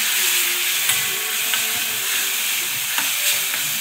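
A paste of ground beetroot, carrot, tomato, garlic, ginger and coriander fries in oil, giving a steady loud sizzle with a few soft scraping stirs.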